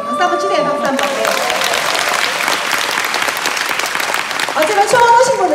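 Seminar audience applauding at a Korean money-talk event, steady dense clapping throughout, with a voice and tonal sounds emerging near the end.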